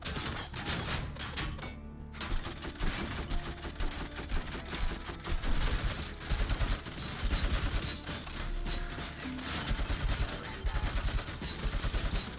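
Sustained machine gun fire in the video game Robocop: Rogue City, dense rapid bursts with thuds and mechanical clatter, loud and continuous.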